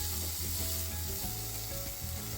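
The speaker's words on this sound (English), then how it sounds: "Now I'm just lightly frying some of that broccoli with the garlic." Broccoli and garlic sizzle and crackle steadily in a hot pan, a dense, continuous frying hiss with faint stirring underneath.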